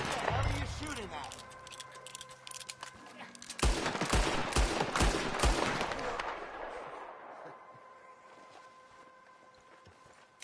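Video game gunfire, a flurry of sharp shots and crackling bursts rising to a loud volley in the middle, then fading into a lingering rumble, with voices talking over it.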